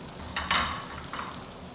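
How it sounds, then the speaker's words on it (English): A spoon scrapes and stirs through a stovetop pot of shrimp seafood boil with tomato puree, giving three short scraping strokes over a low, steady simmering background. "let's give that a stir"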